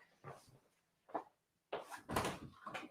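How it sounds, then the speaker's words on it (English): A dog makes a few scattered knocks and bumps against a door, irregular and muffled, with quiet pauses between and a louder cluster near the end. "Sorry, my dog's just gonna knock."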